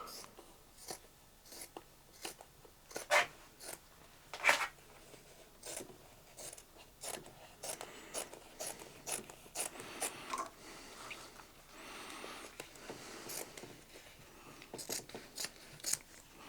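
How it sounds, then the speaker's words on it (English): Scissors snip repeatedly in quick, crisp cuts, close up, with a steady papery rustle in between and no talking. "Let's get the scissors."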